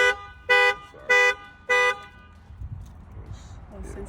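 A car alarm goes off nearby with four loud, evenly spaced horn-like blasts, then stops, leaving a quieter background with faint voices.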